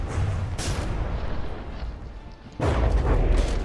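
Cannon shells hitting and over-penetrating a turret during a From the Depths tournament battle, with dense booming artillery-like fire rumbling continuously and a louder burst toward the end.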